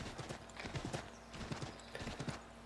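A horse's hooves clip-clop in Assassin's Creed III, a quick, even rhythm of hoofbeats at low volume.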